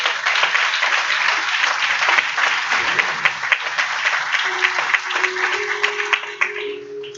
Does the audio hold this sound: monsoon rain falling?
no